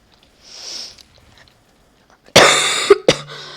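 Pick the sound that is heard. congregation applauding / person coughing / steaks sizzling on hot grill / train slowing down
person coughing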